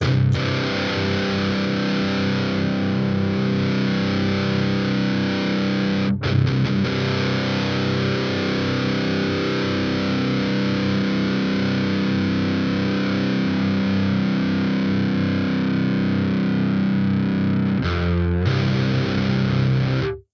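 An electric guitar played through a Vox ToneLab EX with a noise reducer and a presence effect rings out as one loud, heavily distorted, sustained chord, broken only by two brief re-strikes.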